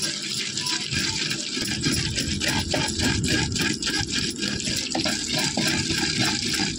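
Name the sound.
water poured into ground tamarind chutney and stirred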